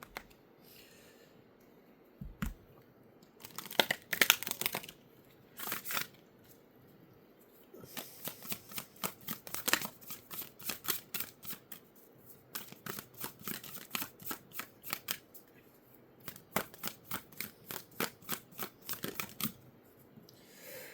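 Tarot cards are shuffled close up in several bursts of quick, soft riffling flutters with brief pauses between, quiet and free of talk.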